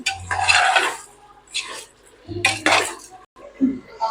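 A spoon stirs vegetable pulao in a metal cooking pot, giving a few scraping, clinking bursts of metal against metal with short pauses between them.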